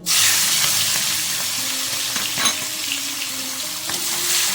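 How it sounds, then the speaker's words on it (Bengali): Shrimp frying in hot oil in a home kitchen for a taro-leaf prawn dish, giving a loud, steady sizzle with occasional scraping stirs of the pan, close and unbroken. "চিংড়ি মাছটা অল্প 2-3 মিনিট একটু তেলের উপর নাড়া দিয়ে নামিয়ে নেব"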